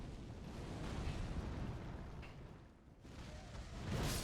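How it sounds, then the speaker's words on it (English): Explosion attack opening the Mohg boss fight in a video game: a broad rumbling blast that swells, briefly dips, then surges again into a heavy roar, with no talking over it. "Why does he do that explosion attack always right off the bat?"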